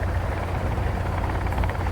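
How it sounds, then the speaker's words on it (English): Steady, loud helicopter rotor drone in the survival video game Sons of the Forest, a continuous low thrumming whir throughout with no talking. "I don't know how long we can actually go in the helicopters here"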